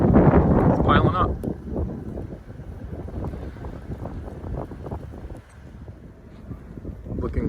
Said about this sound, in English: Snow's coming down at a really good clip, and it's windy.